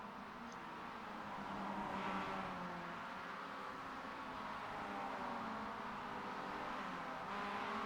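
A race car in the iRacing sim at the Charlotte Motor Speedway Roval drones steadily as it exits pit lane, a continuous mid-pitched engine hum holding fairly even level throughout.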